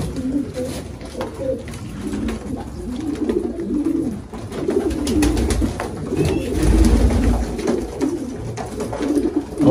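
Pigeons cooing steadily while being fed, several birds close by with overlapping low, rolling coos, scattered pecking and rustling beneath, and an occasional faint voice in the background.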